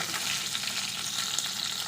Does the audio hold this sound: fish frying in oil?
yes